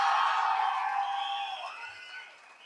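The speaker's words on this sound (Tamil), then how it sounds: "ஒரு பெரிய கைத்தட்டல் தர்றோம்." A live crowd at a singer's stage performance roars with cheering and clapping, a dense, loud wash of voices and hands that slowly fades over a few seconds.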